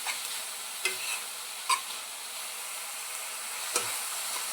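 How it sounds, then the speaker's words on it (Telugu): Onions frying in a pan give a steady, quiet sizzle, with a few soft clinks or stirs breaking through now and then. "ఉల్లిపాయలు వేగేదాకా కొంచెం టైం వేస్ట్ చేద్దాం."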